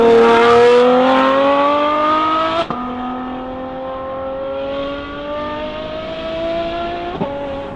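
A Ferrari F12 engine with Novitec N-Largo modifications revs up in long rising pulls, dropping briefly between gear changes, a smooth high-pitched whine that climbs steadily each time.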